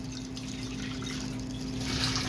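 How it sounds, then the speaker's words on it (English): Filtered salt water pumped from a reef tank filter through a spigot, a soft continuous trickle of running water over a steady low pump hum, growing slightly louder toward the end. "I have that pumping up into this here spigot. So this is all filtered salt water."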